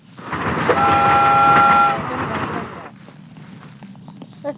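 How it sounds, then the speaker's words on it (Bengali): A video game train sounds a horn and rumbles past, loud for about two seconds with a steady horn tone, then fades into quieter background noise. "ট্রেন চলে গেছে"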